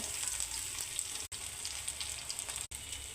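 Onions frying in mustard oil in a pan: a soft, even sizzle and hiss, fairly faint, broken by two brief moments of silence.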